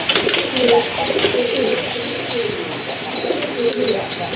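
Low, throaty cooing from a large male pigeon repeats in rolling bursts nearby, with chirps and a person talking underneath.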